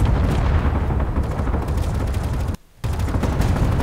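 Gatling guns and rockets firing in Space Engineers, a dense roaring barrage of rapid gunfire and blasts that cuts out abruptly for a moment before resuming, loud and continuous without talk.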